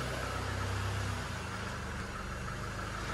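A Land Rover Discovery Sport engine idles smoothly and quietly after a big end bearing repair, a steady low hum with no knocking, heard close for a few seconds.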